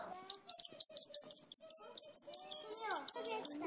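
A sparrow chirps in quick, bright bursts about four times a second, close and steady, over a lower humming, melodic voice-like tone.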